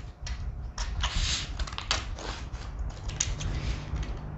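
Scissors cut through a paper dress pattern for a princess-seam sheath dress, giving a series of close, crisp snipping and crunching strokes in an uneven rhythm, with no talking.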